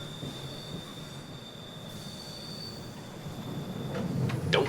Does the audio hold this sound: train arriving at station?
yes